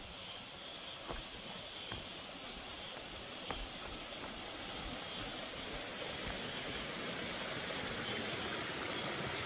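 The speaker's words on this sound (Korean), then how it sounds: "맑은 계곡물이 철철철 흐르고 있습니다." A clear mountain valley stream flows close by a house in the countryside, giving a steady, broad rushing wash of water with no break and no voices.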